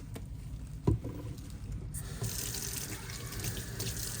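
A kitchen tap runs steadily into the sink for hand washing, a continuous close rush of water with a brief knock near the start and the flow growing stronger partway through.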